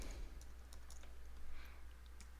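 Soft, quick keystrokes on a computer keyboard, faint and close, tapping in short irregular runs over a low steady hum.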